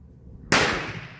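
A single loud, close gunshot from a 1939 Tula Mosin-Nagant rifle firing a handload of IMR 4350 powder: a sudden sharp crack after quiet, then a broad decaying roar over about a second.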